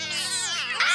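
Cartoon kittens let out a continuous, high, wavering meow that rises into a louder cry at the end.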